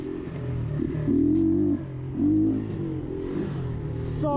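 A Keeway CR152 scrambler motorcycle with a tuned exhaust idles with a steady low drone, then revs up twice in quick swells before settling back, close and fairly loud.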